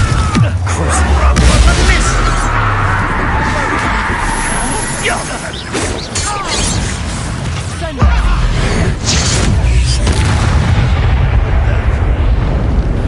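Spell explosions from a Hogwarts fantasy video game, a loud continuous barrage of blasts and crashes with sharp bursts near the start and around eight seconds, layered over game music and effects.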